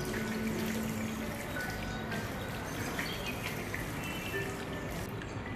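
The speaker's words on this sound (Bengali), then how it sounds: "এবারে ফ্রেশ ওয়াটার দিয়ে আমরা মুখটাকে ওয়াশ করে নেব।" Water splashing and running in a steady wash while a face is rinsed with fresh water, continuous and close with no voices.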